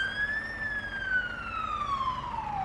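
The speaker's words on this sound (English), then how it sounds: "there's a police car coming behind us" A police siren wails steadily and loudly close by, its pitch gliding up and then slowly sinking as the vehicle passes a roadside crossing, with road noise beneath.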